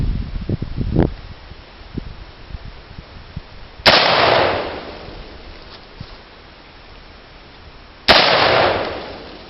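Two sharp AR-15 rifle shots ring out about four seconds apart, each a loud crack trailing into a long echoing decay, with faint handling noises and rustling beforehand.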